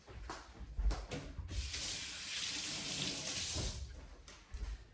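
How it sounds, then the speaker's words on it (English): Tap water runs into a kitchen sink as green onions are rinsed, a steady hiss of flow across the middle of the clip framed by a few clunks and handling knocks. "Let me just give these green onions a quick rinse."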